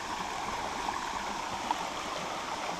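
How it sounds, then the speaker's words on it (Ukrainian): Steady rushing of water from the Rusyliv waterfalls and stream in the Dniester Canyon, a dense even roar with soft gurgles and no voices. "Отакі вони русилівські водоспади."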